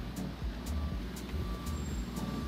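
Lorries and trailers moving around on a Singapore road, with rhythmic reversing beeps repeating about twice a second over low engine rumble.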